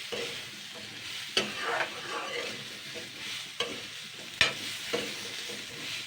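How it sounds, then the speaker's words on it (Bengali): Lentils with sugar, salt and turmeric gently stirred in a pan over heat, a soft steady sizzle with a few sharp scrapes of the spoon against the pan, close and alone without talk. "এইগুলোতে আমি আবারও হালকা নাড়াচাড়া করব।"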